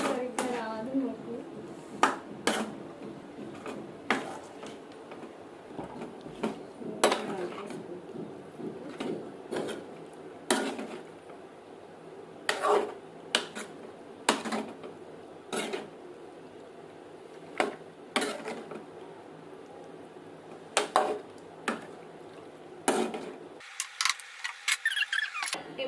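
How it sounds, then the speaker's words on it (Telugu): A spoon stirs tomatoes and green chillies in a cooking pan for chicken curry, giving irregular scraping and clinking strokes with a soft sizzle underneath, while a person talks between the strokes. "టొమాటోస్, పచ్చిమిర్చి ఇప్పుడైతే కలుపుకుంటున్నాను అనమాట"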